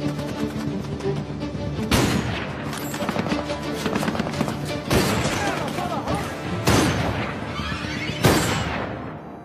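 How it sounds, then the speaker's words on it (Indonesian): Gunfire from snipers shooting a Somali rebel leader in a film scene: several sharp, loud broadband shots and booms ring out at intervals over a dense, busy action soundtrack with no clear talk. "Dan Larain akhirnya berhasil menembak pemimpin pemberontak Somalia itu"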